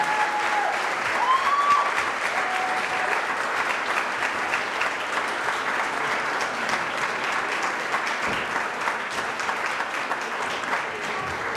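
Sustained audience applause at a chamber of commerce awards ceremony honoring the New Business of the Year, a spa, steady dense clapping filling the room throughout with no speech.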